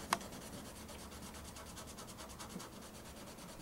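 Sandpaper folded over a finger rubs back and forth across a hand-forged steel blade, a steady, quiet scratchy rasp that runs throughout with a brief louder scrape near the start.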